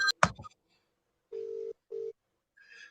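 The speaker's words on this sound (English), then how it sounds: "we're getting Mr. McQueen on the phone right now" Telephone on speakerphone placing a call, with a short burst of noise and then two steady tones separated by a brief gap, followed by a faint higher tone.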